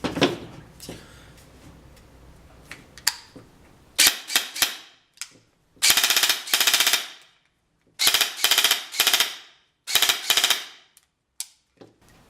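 An ARP 9 airsoft gun fires several short, sharp rapid-fire bursts with brief pauses between them, loud and close, after a few quieter mechanical clicks.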